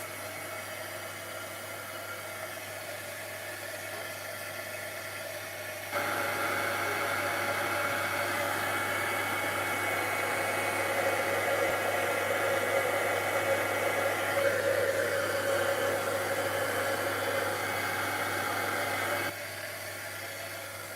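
A heat tool dries paint on an art journal page, giving a steady, loud whooshing hum that switches on, runs for about thirteen seconds with slight wavering, then drops back to a quieter background noise.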